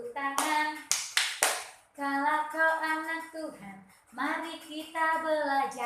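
Three sharp hand claps ring out near the start, in time with a children's Christian song, followed by sung voices carrying the tune without further clapping.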